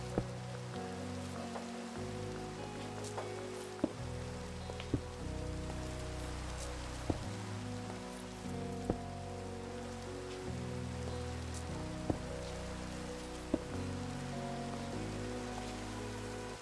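Rain falling in the video game Minecraft, a steady hiss of rain on surfaces over a shifting low drone, with sparse sharp ticks scattered throughout, sustained and moderately loud.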